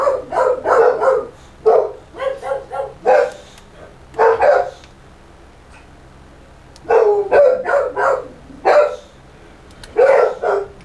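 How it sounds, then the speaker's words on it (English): Dogs bark at someone at the door indoors, repeated loud close bursts of barking in several clusters with short pauses between, no talk. "there's someone just come to the door, so the dogs are just letting them know their presence"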